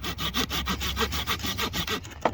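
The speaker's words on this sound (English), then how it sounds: "I've sawn off all those little branches sticking up" Small branches are sawn off a wooden hiking staff with a hand saw, a close, steady run of quick back-and-forth rasping strokes, with no talk.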